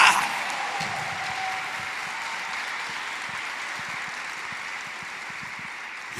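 Church audience applause rolls on as a dense, steady patter of many hands clapping, moderately loud and fading slightly toward the end.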